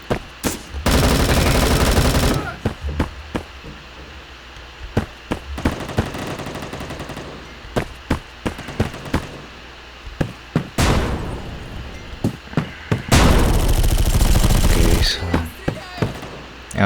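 Bursts of automatic gunfire from the Bullet Force video game, with two long sustained volleys and scattered single shots and short rattles in between, loud and close, with no talk.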